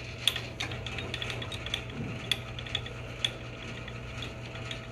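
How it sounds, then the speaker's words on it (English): A torque wrench calibration rig's wheel being cranked gives a steady run of ratchet-like mechanical clicks and ticks, with a few sharper clicks standing out over a low constant hum. "We just crank this wheel."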